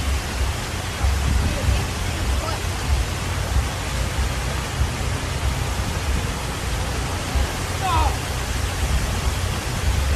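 Steady rushing water from a waterfall beside a hole on the Minotaur course at Mt. Atlanticus mini golf in Myrtle Beach, a constant broadband roar filling the whole stretch with faint voices beneath it.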